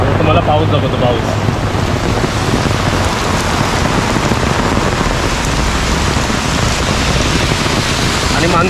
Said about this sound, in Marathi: तुम्हाला पाऊस दाखवतो पाऊस.